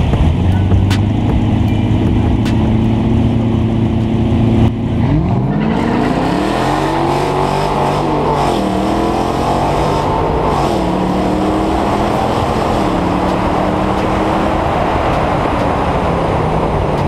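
A drag race car fitted with new headers makes a practice run down a drag strip. Its engine roars loudly and steadily throughout, dipping around five seconds in before climbing again through a series of rising, shifting pitch sweeps.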